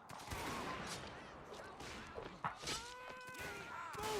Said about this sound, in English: Gunfire already all over the place.